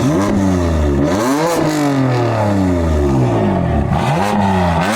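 A BMW engine revs hard at a Euro Invasion car meet, loud and close, climbing and dropping in repeated throttle blips with no talking over it.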